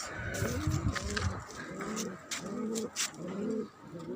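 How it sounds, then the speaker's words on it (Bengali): Pigeons coo in a steady series of low, rolling calls, close by on a rooftop garden, with faint outdoor background noise and no talking. "সুন্দর কবুতর আছে"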